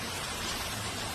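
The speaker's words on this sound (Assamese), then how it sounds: "বৰষুণ দি আছে যে" Steady rain falling on a rainy evening, a dense, even hiss that stays constant and fairly loud throughout with no voices or other sounds.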